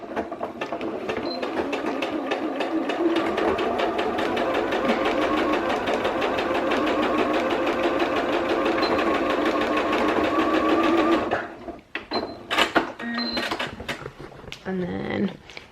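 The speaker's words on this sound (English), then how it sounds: "put it in the sewing machine" A sewing machine runs steadily with a fast mechanical whir for about eleven seconds, then stops, followed by brief clicks and handling sounds.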